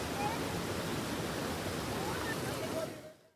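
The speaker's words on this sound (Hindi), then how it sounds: "सिलीसेड़ बांध 15 दिन से ओवरफ्लो है।" Water pours over the overflowing Siliserh dam in Rajasthan after days of heavy rain, a steady broad rushing roar that holds evenly before fading out at the end.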